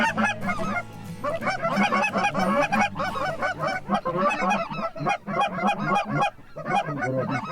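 White-fronted geese honking in a dense, overlapping chorus of repeated calls, loud and close throughout during a waterfowl hunt.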